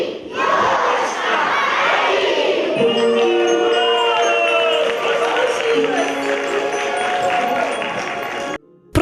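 Hall full of people shouting together at a New Year tree lighting, a loud massed roar of voices with cheering and children's shouts, sustained for several seconds before cutting off abruptly.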